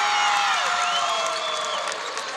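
A loud indoor crowd cheers and roars steadily in a gym at a girls' basketball final, with shouts and whistles rising above the din.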